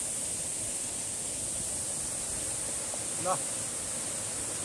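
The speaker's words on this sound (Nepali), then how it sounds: "ल ठुलो छ झरना" A large waterfall near Dhading, outside Kathmandu, gives off a steady, even hiss of falling water at a distance, with a brief voice surfacing faintly partway through.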